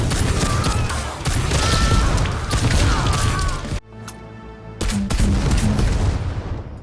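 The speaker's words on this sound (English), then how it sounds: "Bigger and better is the full plasma gun. You get to see that pretty projectile more, as well as the increased visual explosion" In Necromunda: Hired Gun, a full plasma gun fires and its shots explode in dense, loud crackling bursts, broken by a short lull before another blast.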